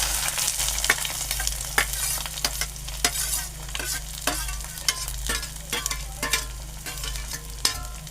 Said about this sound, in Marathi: आता परत आपण ही भाजी, कांदा आहे हा ढवळून घेऊ